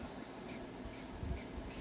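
Short, sharp hisses of an F11 top coat aerosol spray can sound in quick repeated bursts, about four evenly spaced puffs, close and fairly quiet.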